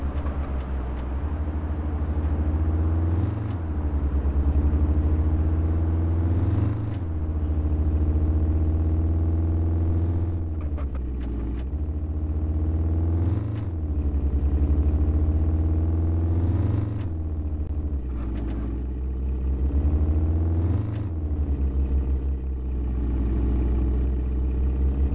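A sports car engine in a taxi simulator driving game drones steadily and loudly, its pitch climbing through gears and dropping back in a repeating rhythm of shifts, with no talk over it.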